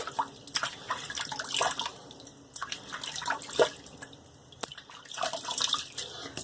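A bathroom tap runs while someone splashes water onto their face before a shave, with irregular close trickles and splashes that rise and fall over a quiet background.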